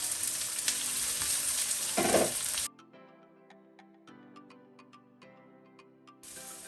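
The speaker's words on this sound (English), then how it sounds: "We are going to fry the garlic on a high heat for about 30 seconds." Garlic, onion and bean sprouts fry on high heat in a loud, bright sizzle for a few seconds, which then drops away to quiet clinks and light stirring before the sizzle swells back up.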